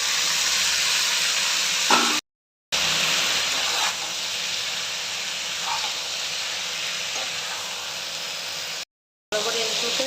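Taro leaves hit hot oil in a pan where fish heads were fried earlier, giving a loud, steady sizzle and hiss that carries on throughout, broken by two brief gaps of silence, with no talking.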